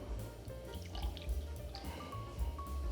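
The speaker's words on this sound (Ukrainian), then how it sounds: "Висипаю в каструльку з толстим дном сахар, додаю воду." Water poured onto sugar in a thick-bottomed saucepan to start a sugar syrup for homemade ice cream, a soft, steady trickling and splashing that runs throughout at low volume with no talk.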